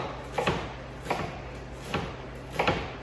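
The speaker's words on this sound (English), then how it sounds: "we're just cutting this into slices, nice and thin, all the way to the root" A knife slices an onion thinly on a cutting board, all the way to the root, for kuku sabzi. Four evenly spaced, soft, crisp cuts end in light knocks on the board, close and quiet, with no talking.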